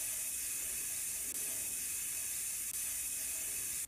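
A steady, close hiss of spray runs without a break, with two faint clicks partway through.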